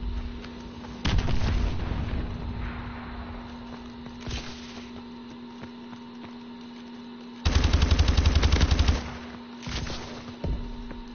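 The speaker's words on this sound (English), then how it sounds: "Enemy missile strikes." Enemy missile strikes and gunfire sound in Call of Duty Advanced Warfare, with booming explosions, a long rapid burst of automatic fire and scattered shots over a steady hum. The sound is loud and close.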